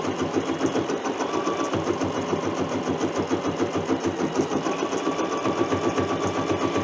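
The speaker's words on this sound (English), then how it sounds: "You can program your machine so that it will stop and let you trim the threads." A Bernina embroidery machine stitches a quilt label at a low speed setting, giving a steady, continuous mechanical whir with a fast regular needle rhythm, close and unbroken, with no talking.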